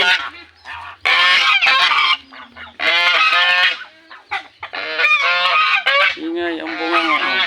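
A goose-like bird honking loudly in repeated harsh bursts, close and dominant, with brief pauses between calls and no talk over it.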